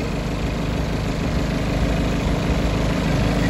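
A BMW engine with a faulty engine mount and air filter noise idles loudly nearby with a steady, rough rumble and a constant buzzing vibration, unchanging throughout.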